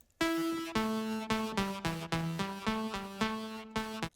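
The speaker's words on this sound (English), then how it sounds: "I do have a layer of synths that follow the same melody" A robotic synth layer plays a stepping melody line in sharp, evenly spaced notes with bright buzzy harmonics, each note restarting cleanly, alone with no vocals over it.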